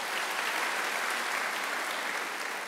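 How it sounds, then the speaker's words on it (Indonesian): An audience claps steadily at a church worship service, a dense even patter of hands that holds level throughout with no voices over it. "Berikan tepuk tangan bagi dia"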